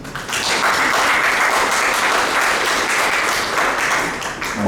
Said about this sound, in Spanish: Recibamos a Pedro con un aplauso.